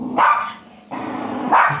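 A dog barks in short bursts, about three close, loud barks with a slight growly edge, heard alone.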